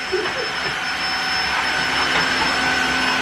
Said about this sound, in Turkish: evinize böyle süpürge alın bak hocalarınız yer siliyor süpürge artık